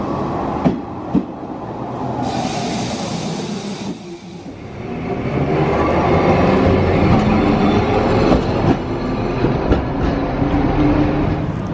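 A train pulls out of a station in Fukuoka bound for Kumamoto, Japan, rumbling loudly and steadily from close by with rhythmic wheel clatter, with no speech.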